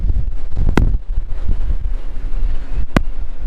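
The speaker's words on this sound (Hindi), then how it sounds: "बहुत ही ज़्यादा तेज़ हवा है यहाँ पर, आप खड़े नहीं हो सकते।" Strong, cold wind gusts across a ship port, a steady roaring rush with buffeting low rumble against the microphone, broken by two short sharp bursts.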